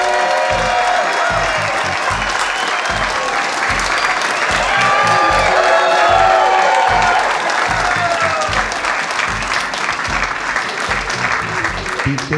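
Comedy club audience at a stand-up special bursts into loud, sustained applause mixed with cheering and whoops, a dense wall of clapping that stays steady and close throughout.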